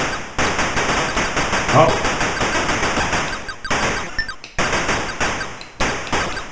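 Rapid gunfire from the Atari ST shoot-'em-up Plutos, a steady stream of sharp repeating shots that runs almost the whole time and breaks off briefly a few times, with a short spoken exclamation over it.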